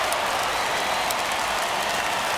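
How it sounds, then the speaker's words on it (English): Home crowd at a Major League Baseball game between the Philadelphia Phillies and St. Louis Cardinals cheering after a home run, a broad, steady roar of many voices filling the stadium without a break. "No better way to get the home crowd into it right out of the gates."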